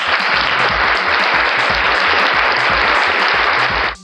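Canned applause effect triggered from a V8II mixer sound card, a dense, loud, steady burst of clapping with a slight rhythmic pulse underneath, lasting about four seconds before cutting off abruptly.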